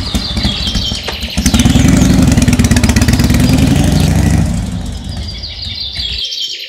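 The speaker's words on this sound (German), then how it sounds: "Ach, mit dem Roller bin ich schneller." A boy's scooter engine starts up and revs into a steady, buzzing motor drone, holds for a few seconds, then eases off and fades as he rides away, with birds chirping in the background.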